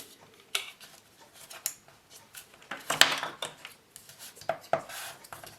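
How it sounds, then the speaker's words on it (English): Scoring a mountain fold line on Photoplay photo paper: a series of sharp, scattered scraping and tapping strokes, close and fairly quiet, with a longer rasping pass in the middle. "score into the mountain score line"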